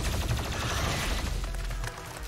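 Enemy explosion in DOOM Eternal, a loud, dense burst of blast and gunfire-like crackle filling the whole moment, sustained and close, dropping slightly near the end.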